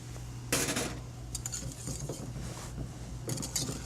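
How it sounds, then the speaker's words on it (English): Grits from Weisenberger Mills are stirred into a pot of boiling water, with a spoon scraping and clinking against the pot in a few bursts over a steady bubbling background. "And you just stir these in."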